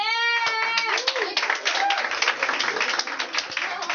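Audience at a comedy show in a beer hall in Condesa, Mexico City, breaking into a burst of dense hand clapping mixed with voices, following a brief vocal sound at the start.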